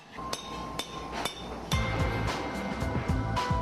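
Hammer blows ring out on hardened bangjja brassware, forged bronze tempered by quenching, with several sharp metallic strikes spaced apart, then a denser run of clanking hits and a resonant clink, close and fairly loud.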